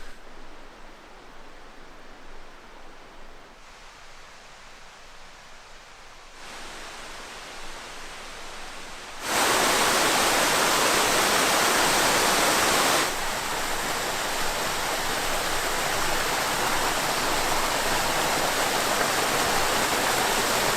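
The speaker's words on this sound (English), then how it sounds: "So this is Chinook Creek, a little bit past the junction for the East Side Trail" Chinook Creek, a mountain stream in the volcanic Cascades near Mount Rainier, rushes with a steady broadband roar. It is softer at first and turns much louder and closer about halfway through, then stays strong.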